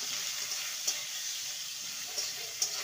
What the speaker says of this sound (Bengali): হাই ফ্লেমে বেগুনটাকে ভেজে নিতে হবে।